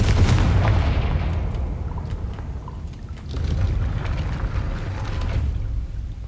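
A Confringo fire spell explosion in Hogwarts Legacy on hard mode, a deep booming blast followed by rumbling debris and a second swell of low roar, with no voices.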